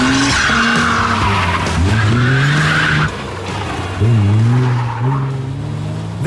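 A 1988 BMW M5 Series 2 drives hard close by, its engine revving and rising in pitch while the tyres skid and squeal. The sound is loud and continuous, with a brief dip mid-run before the engine surges again.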